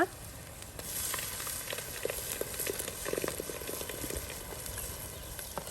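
Ground green masala roasts in ghee in a pan along with softened onion, giving a steady, quiet sizzle with soft crackles and occasional stirring scrapes throughout.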